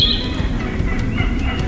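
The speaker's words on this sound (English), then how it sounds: "You can hear some turkeys gobbling in the background and some hens yelping here." Wild turkeys gobble in the distance during spring turkey season, with hens yelping closer by, repeated short calls over a rumbling outdoor background with no talking.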